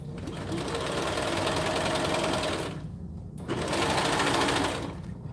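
A serger sewing machine stitches along a fabric edge in two fast, buzzing runs, close and steady, separated by a short pause.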